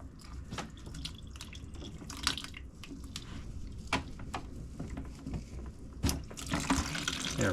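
Water drains out of a hot and cold water cooler during cleaning, dripping and splashing unevenly into a container with irregular plinks and trickles, close by, alongside a few handling knocks.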